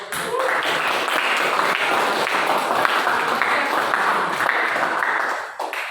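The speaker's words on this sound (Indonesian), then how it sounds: "Ya, tepuk tangan dulu." Students in a classroom break into lively applause, a dense burst of many hands clapping close by that holds steady and then tapers off near the end.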